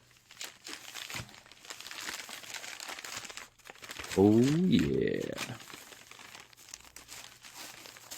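Decorative wrapping paper on book mail crinkles and tears as it is unwrapped, a close rustling burst in the middle of the clip, with a person talking briefly over it.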